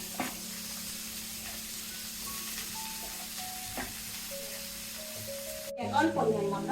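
Cabbage goes into a hot frying pan for a vegetarian dish, setting off a sudden loud hiss and sizzle near the end after a quieter stretch with faint steady tones in the background.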